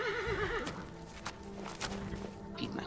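A horse in the game Skyrim gives a wavering whinny up front, followed by a few soft hoof clops and thuds, fairly close and clear.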